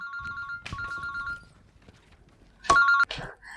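Electronic phone ringtone of an incoming call, a melodic tone pattern repeating in two short bursts with a pause between, fairly clear and close.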